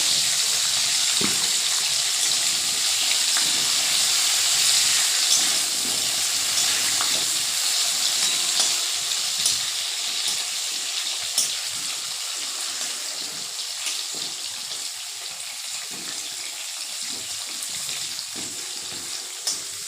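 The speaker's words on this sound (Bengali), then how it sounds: "আগে তল পিঠটা ভেজে নেবো" Fish and potatoes frying in a pan, a continuous hissing sizzle that stays loud and steady, easing off slightly toward the end, with a few faint clicks.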